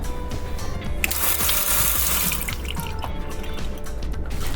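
Water running steadily from a hotel room sink faucet, a continuous close splashing stream with a louder gush partway through.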